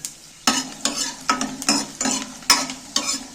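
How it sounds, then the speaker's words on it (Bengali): Ginger pieces fry with spices in hot oil in a wok, heard as a steady sizzle broken by a regular series of sharp spatula strokes against the metal. "আদা টুকরো দিচ্ছি"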